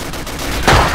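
Gunfire in the World War II game Darkest Hour, a dense crackle of distant shots under constant battle noise with one heavier report standing out partway through.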